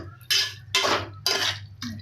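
Tomato masala for kuska being stirred in a pot: four distinct scraping strokes of a ladle against the pot's sides, each about half a second long with short pauses between, set over a low steady hum.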